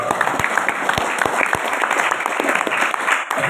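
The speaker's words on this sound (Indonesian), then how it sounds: "Beri aplaus untuk Anda semua." An audience at a motivational coaching seminar breaks into loud, steady applause, dense clapping heard up close that fills the whole moment.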